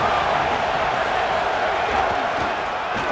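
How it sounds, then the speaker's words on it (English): A large stadium crowd in the EA College Football 27 video game roars as one continuous, dense wash of voices, steady and loud throughout, with no clear breaks or single voices standing out. "This crowd ready to make its presence known"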